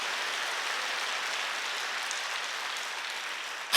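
Steady, dense applause from a church congregation at a Wednesday service, a continuous even wash of many hands clapping, slightly distant, with no talking over it.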